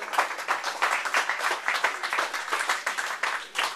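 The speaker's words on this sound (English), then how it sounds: "Big round of applause for our guest." An audience at a Web Wednesday tech meetup in Hong Kong claps for a guest speaker, with dense, steady applause from a crowd indoors that continues throughout.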